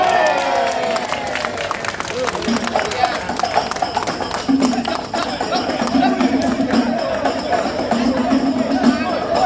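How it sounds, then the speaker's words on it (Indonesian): Crowd clapping and cheering at a lively Indonesian Independence Day palang pintu performance at a company event, a dense steady wash of many hands under loud talk and chanting throughout. "Bangko tepuk tangan biar pada rame"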